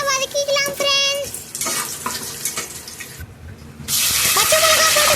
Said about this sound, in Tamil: பட்டை லவங்கம் இலை போட்டுக்கலாம் फ्रेंड्स. போட்டு நல்லா வதக்கிக்கலாம் फ्रेंड्स